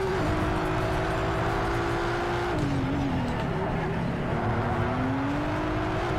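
A Toyota Supra race conversion in the racing game Project Cars 3 is driven hard, and its engine drones loud and steady, with the pitch dropping on gear changes and faint tire squeal beneath.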